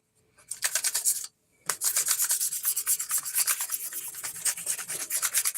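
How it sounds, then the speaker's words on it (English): Someone scuffs a hard plastic panel by hand with quick, rhythmic back-and-forth rasping strokes, close and crisp. A brief pause breaks the strokes early, then the scuffing resumes steadily. "hard plastic panel here. And you're just going to scuff it."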